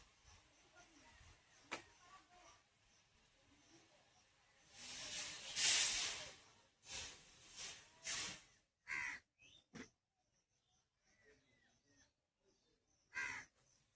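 Water splashes into a pan of leafy greens that had started to stick, setting off bursts of loud hissing sizzle that flare and fade in uneven spurts, with quiet gaps between them.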